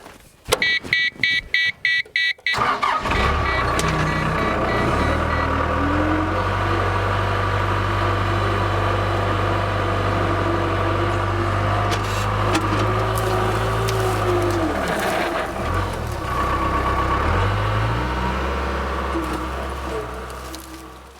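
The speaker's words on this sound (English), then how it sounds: "we're going to jump in the skid steer and just start tearing some of this brush out" A skid steer tears out brush. Rapid clicking beeps come first, then the engine settles into a loud, close, steady drone with slight shifts in pitch, fading a little at the end.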